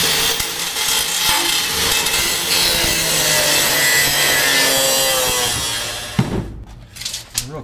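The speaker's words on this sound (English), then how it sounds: "I'm going to need to trim off some more of this sheet metal." Car body sheet metal being cut away for rear lower roll cage bracing on a time attack build, producing a steady rasping, grinding cut that runs continuously, then stops abruptly with a few clanks near the end.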